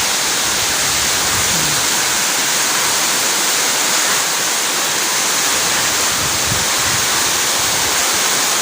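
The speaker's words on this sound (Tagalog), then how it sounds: "Ayan ang bagyo." Typhoon rain and rushing floodwater make a loud, dense, continuous roar of hiss and splashing that stays steady throughout, with no voices.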